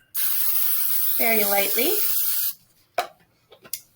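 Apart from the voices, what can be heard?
cooking spray sprayed onto baking sheet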